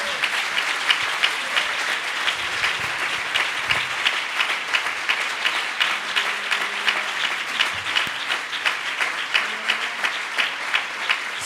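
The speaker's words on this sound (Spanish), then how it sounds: "Yo creo que el Señor se merece un aplauso muy fuerte en esta noche" Loud, vigorous applause from a church congregation at a convention worship service in Aruba, dense clapping that carries on strongly for over eleven seconds and grows into a more rhythmic, pulsing pattern toward the end.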